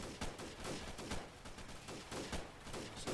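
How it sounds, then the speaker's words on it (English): Rapid overlapping gunfire from a firefight in the game Freeman: Guerrilla Warfare, bursts and single shots cracking in a dense, continuous exchange with no talk over it. "Just exchanging a lot of fire"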